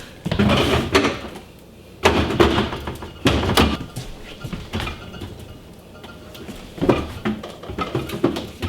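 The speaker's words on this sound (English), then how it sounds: "I can probably put my carrots in this drawer" A fridge drawer is pulled open and pushed shut, giving several plastic sliding thumps and knocks at close range, with quieter rustling between them.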